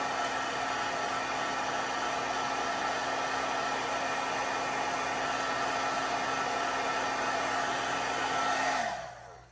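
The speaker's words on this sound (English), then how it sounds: "this heat gun gets very hot" A heat gun blows steadily at close range to melt embossing powder on a handmade card, a loud continuous whirring hiss with a steady tone that drops and cuts off at the end.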